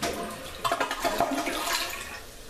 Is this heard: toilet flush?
yes